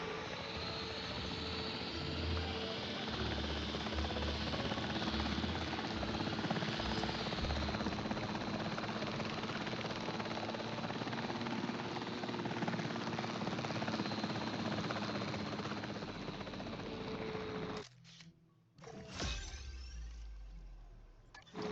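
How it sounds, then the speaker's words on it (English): Helicopter lifting off in the video game Jurassic World Evolution 3, a loud steady rotor roar with whirring blades that runs continuously, then cuts out briefly near the end before a short burst returns. "Okay, and helicopter. I'm going to go with helicopter."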